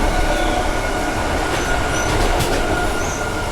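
A train rumbles loudly around a bend near Perth Stadium Station, steady broadband roar with wheels squealing in high-pitched bursts midway, close and continuous.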